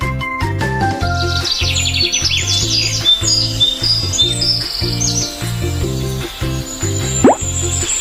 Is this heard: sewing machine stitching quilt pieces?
no